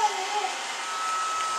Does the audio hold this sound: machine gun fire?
no